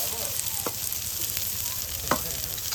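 Chopped onion goes into a pan of sizzling ginger and garlic for desi masala pasta. A steady close frying hiss runs throughout, with a couple of soft clinks.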